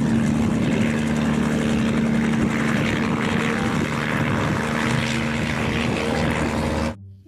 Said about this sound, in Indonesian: Lihat, ada helikopter.